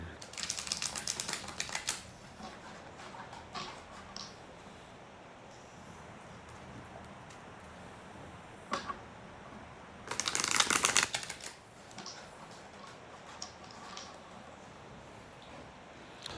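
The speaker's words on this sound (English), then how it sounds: "I'm going to take a moment to shuffle the cards" Tarot cards being shuffled by hand, with a loud riffling burst at the start, softer intermittent shuffling and handling through the middle, and a second sharp riffle near the end.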